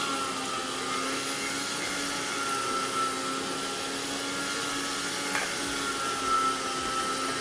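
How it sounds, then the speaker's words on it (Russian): A meat grinder steadily mincing meat and onion gives a continuous motor whir with grinding texture, even and fairly loud throughout with no talk. "Мясо и лук перекручиваем через мясорубку"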